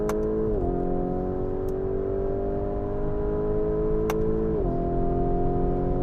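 A Lamborghini Urus accelerates using paddle shifters. Its loud, steady engine tone climbs and drops sharply at two quick gear changes.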